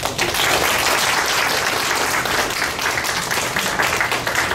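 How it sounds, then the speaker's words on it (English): Loud, sustained audience applause for a speaker at a technology conference, a thick continuous roar of many hands clapping from start to finish with no talking. "a round of applause for Michael"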